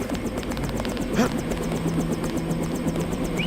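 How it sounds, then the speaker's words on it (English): Helicopter engine in the Deus Ex video game, a steady rapid rotor chop with a low droning hum, loud and continuous throughout. "Get on the helicopter, Mr. Denton."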